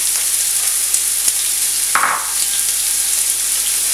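Onion frying in olive oil in a pot, a steady, loud, close sizzle throughout with a brief stirring scrape near the middle.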